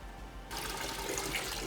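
Rifle-mounted weapon lights being dunked into water, a sudden loud splash and rushing, gurgling water that starts abruptly after a quiet moment and continues steadily.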